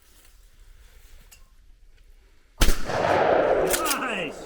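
A single loud gunshot at a shooting range cracks out after a quiet lead-in, followed by a ringing metallic decay, and a voice speaks briefly.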